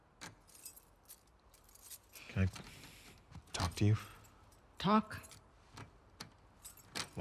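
Keys jangle in short metallic bursts within The Last of Us Part II, heard intermittently between and under brief exchanges of dialogue.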